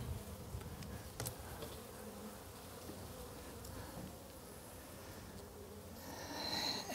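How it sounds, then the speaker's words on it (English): Dense, steady buzzing of many honeybees close by at a hive entrance, bees bringing in pollen, a continuous low hum with occasional louder passes near the end. "Here are some bees who are bringing in pollen."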